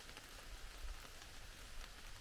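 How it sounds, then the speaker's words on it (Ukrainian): Steady rain patters on leaves and the forest floor in a woodland during a prolonged downpour, a continuous even hiss with scattered drops, no voices. "Сьогодні йдемо в ліс у дуже-дуже дощову погоду."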